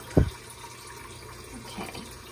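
Running water from a kitchen tap filling a soup pot, heard as a steady, soft rushing stream with a brief louder splash at the start.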